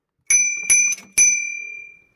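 A bicycle bell rings four times in quick succession, bright and close, each ring trailing off into a long fading shimmer, with no talking.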